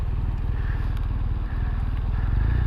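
A new Kawasaki Vulcan motorcycle rumbles along on the road, its low engine throb steady and continuous with faint wind and road noise, no voices over it.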